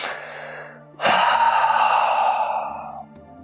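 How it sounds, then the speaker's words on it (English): A deep breath drawn in and let out in a guided relaxation exercise: a softer inhale, then a long, loud, breathy exhale that fades over about two seconds, close and alone. "Take a deep breath in and out."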